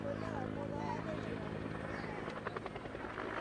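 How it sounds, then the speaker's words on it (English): An AB-212 twin-engine helicopter flies at an international airshow in Malta, its steady rotor and engine drone filling the whole stretch at a distance, with faint speech over it. "The AB-212 is a twin-engine helicopter"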